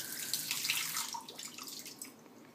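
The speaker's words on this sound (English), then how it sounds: "So really I'm just trying to sort of compare how these two valves pour." Water pouring from a bender valve during a flow comparison test, a steady hissing splash that fades slightly toward the end, heard alone without voices.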